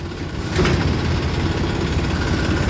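A Mahindra tractor engine rumbles at a sugar mill in the morning, a steady low throbbing drone that grows slightly louder after a moment and then holds even, with no voices.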